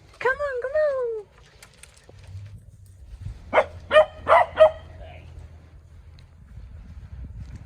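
Dogs barking outdoors in the woods during backyard archery practice: a whimpering whine at the start, then four sharp, fairly loud barks in quick succession over faint wind.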